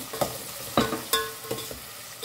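Tomatoes with salt being stir-fried in a pan for crab sukka, a soft sizzle under several loud scraping stirs of the spoon at irregular intervals, close and with no voices.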